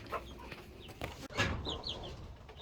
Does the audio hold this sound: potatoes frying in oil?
no